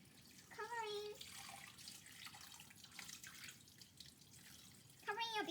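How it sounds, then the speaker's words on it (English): Water pours from a tap into a cooking pot of beef shanks in a home kitchen, a steady splashing rush that fills most of the stretch, with brief chirpy noises near the start and end. "the next step is to add water"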